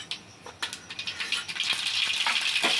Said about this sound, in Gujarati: તેલ ગરમ થઈ ગયો, હવે નાખી રાઈ.